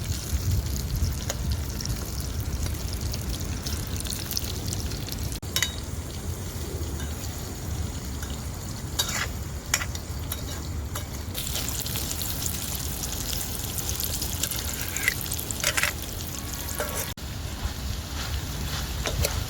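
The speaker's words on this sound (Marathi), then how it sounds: "आता हे केळीचे तुकडे ना तेलामध्ये परतून घेणार आहे मी दोन मिनटं" Raw banana pieces sauté in oil in a pan over a wood-fired clay stove, giving a continuous close sizzle and crackle with occasional sharper pops and utensil knocks, with no talk.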